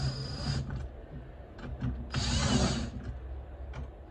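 Wrench working down the bolts on a Deere/Comet 102C primary clutch in a crisscross pattern, giving close, loud bursts of metallic ratcheting and clicking with short pauses between turns.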